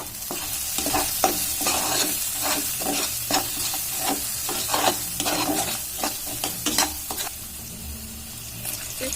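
Onion and spice paste stirred and fried in fish oil for a rohu fish and taro curry, with steady sizzling broken by repeated sharp scraping strokes of a spoon against the pan, close and continuous with no talk.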